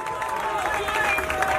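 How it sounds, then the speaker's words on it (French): A wedding audience applauding, a dense, steady wash of clapping from a crowd that holds at an even level throughout with a faint voice underneath. "On applaudit très très fort, s'il vous plaît."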